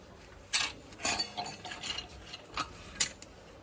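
Dishes and utensils are being washed by hand, with scattered metallic clinks and clatters of cutlery and pots against a quiet background.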